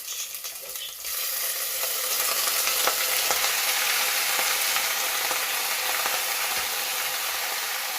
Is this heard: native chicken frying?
yes